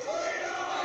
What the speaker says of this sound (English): This crowd is on the side of Honky Tonk Man, so they're rooting for him.